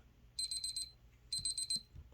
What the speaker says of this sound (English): okay, timer.